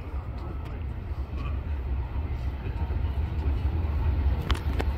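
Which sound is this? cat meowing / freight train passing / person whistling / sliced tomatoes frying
freight train passing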